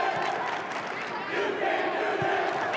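A large crowd cheers and shouts at a high school girls' volleyball state championship match in Illinois, a dense, sustained roar filling an indoor arena.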